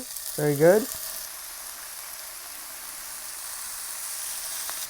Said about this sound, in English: that fat sizzling on the pan